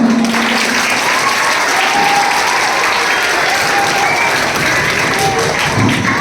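An audience at a retirement felicitation ceremony applauds in a dense, steady, loud wash of clapping that lasts throughout, with no let-up.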